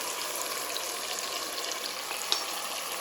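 Marinated chicken for Turkish chicken biryani fries over high heat in a steady, dense sizzle, constant and close, with one faint clink near the end.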